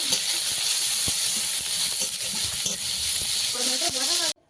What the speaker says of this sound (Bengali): আলু ভাজা হয়ে পেঁয়াজ রসুন পড়ে গেল তেলে